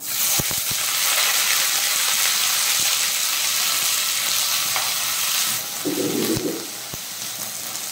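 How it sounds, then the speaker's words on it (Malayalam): Shallots sizzle loudly in hot oil with mustard seeds and green chillies for a Kerala kakka thoran, with a steady frying hiss broken by a few sharp utensil clicks and scrapes. "നമുക്ക് കൊച്ചുള്ളി ഇട്ട് കൊടുക്കാം."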